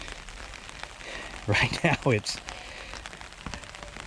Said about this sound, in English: we've had enough rain, it can stop.